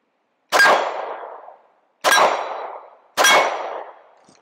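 Three bullets striking a steel target at a range, each a sharp metallic clang with a ringing decay, the impacts spaced about a second and a half apart and loud.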